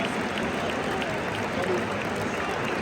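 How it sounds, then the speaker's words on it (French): Applause from a small group for the guys in Marseille, a steady dense patter of clapping throughout, fairly close, with some voices mixed in. "Je suis obligé d'applaudir les mecs."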